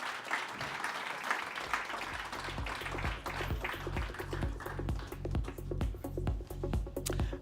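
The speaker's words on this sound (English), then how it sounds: "Ladies and gentlemen, give them a big round of applause." An audience at a cricket match applauds the players in a dense, sustained wash of clapping, with a steady rhythmic beat of unison claps running through it.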